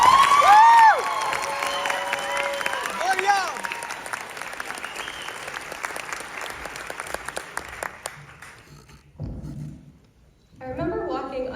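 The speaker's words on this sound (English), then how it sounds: "Please join me in applauding Ria Deshpande." A graduation day audience claps for a salutatorian speaker, with a voice speaking over the start and steady applause that thins out and stops near the end.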